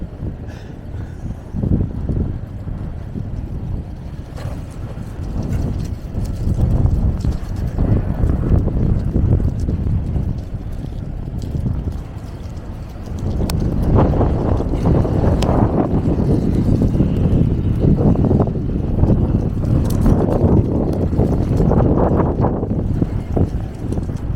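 Strong winter wind roars steadily outdoors during an Arctic cold snap in Harlan, eastern Kentucky, with loud, continuous gusting and buffeting that swells louder partway through; no one speaks.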